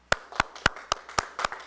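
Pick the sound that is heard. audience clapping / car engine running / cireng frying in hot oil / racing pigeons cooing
audience clapping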